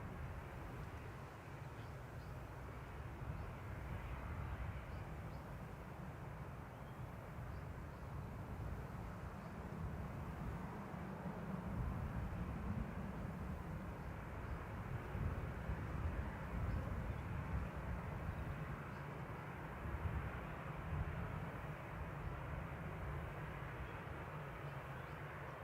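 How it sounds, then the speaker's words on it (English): A Ryanair Boeing 737-800 takes off from Manchester Airport, heard from a distance as a steady broad jet roar that slowly builds and swells, with no talk over it. "Lined up and ready to go, 737-800 operating Ryanair flight 559 over to Dublin."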